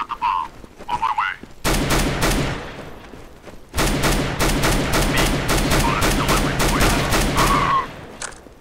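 Rapid bursts of auto sniper rifle fire in the video game CS:GO ring out: a short volley, a pause, then a longer run of sharp, loud, evenly spaced shots before it trails off, with brief game sounds between.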